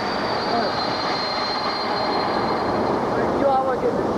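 Train at the Dresden train station, a steady broadband rumble with a faint high whine from the engine and rails, heard amid station ambience and scattered voices.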